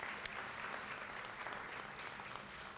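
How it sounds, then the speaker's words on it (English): Audience applause at a police department swearing-in ceremony, a steady wash of many hands clapping indoors, moderately loud and continuous throughout. "Give them a round of applause."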